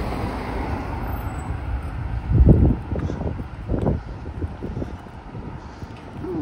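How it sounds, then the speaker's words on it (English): Wind gusting across the microphone on a street walk along Moston Lane in Manchester, low rumbling buffets rising and falling with a louder gust midway, and faint traffic hum behind. "Got a bit breezy."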